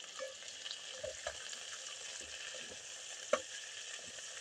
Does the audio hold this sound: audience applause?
no